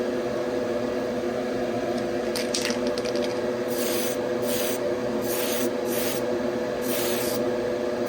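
Spray gun painting a 1970 Chevelle car body, with several short hissing bursts of spray about a second each over a steady loud compressor or booth hum.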